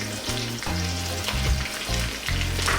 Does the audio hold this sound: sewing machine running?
no